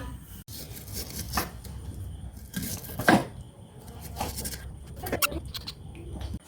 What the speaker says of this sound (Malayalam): അപ്പോൾ ഉള്ളി മുറിക്കൽ കഴിഞ്ഞു